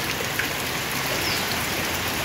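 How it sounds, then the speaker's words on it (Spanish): Rain falling steadily in the early morning during a heavy downpour, a dense close hiss of drops on surfaces with occasional louder splashes, continuous and even with no voices. "Miren, por acá está lloviendo, se ve como cae el agüita."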